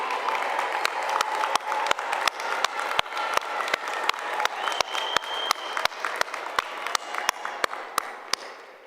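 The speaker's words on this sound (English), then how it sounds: "Graduates, please turn around to recognize and applaud your dear friends and family members" Graduates at a university commencement ceremony applaud their friends and family, producing a large, sustained wash of crowd clapping throughout, with sharp regular taps standing out over the dense applause.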